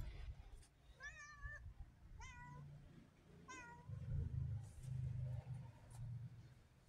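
A hungry cat meows three times in fairly quick succession, each cry short and clear, over a faint low background hum.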